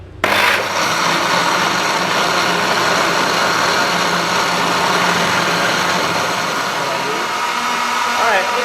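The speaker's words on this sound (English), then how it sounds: "And then we're going to blend." A blender purees soaked soybeans for homemade soymilk. It starts abruptly and runs as a loud, steady motor roar with a churning whir for the whole stretch, with faint speech underneath.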